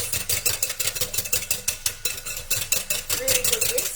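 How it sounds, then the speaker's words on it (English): A sesame oil sauce with toasted sesame oil being whisked briskly in a bowl for a Japanese yakitori and okonomiyaki dish, giving a fast, steady run of rhythmic clinking scrapes close up, with no talking. "give that a whisk."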